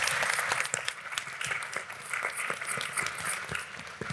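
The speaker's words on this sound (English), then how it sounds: "Let's have a huge round of applause." Audience applause at a children's panel discussion event, a sustained wash of many hands clapping throughout at steady volume.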